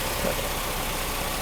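A Mercedes W123 230E with worn, collapsed engine mounts idles steadily during a test after fuel distributor repair, a constant broadband hum with no rhythm change over a very short span.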